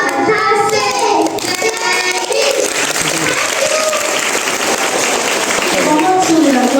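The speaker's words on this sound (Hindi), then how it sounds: "ताली बजाओ।" An audience claps at a school Independence Day cultural program by students with disabilities, a continuous dense patter of applause mixed with voices talking over it.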